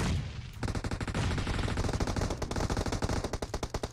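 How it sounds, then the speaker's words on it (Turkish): Rapid automatic gunfire in PUBG Mobile, a dense loud stream of shots that begins about half a second in and keeps hammering steadily to the end, close and unbroken. "Abi nereden sıkıyor bu ya?"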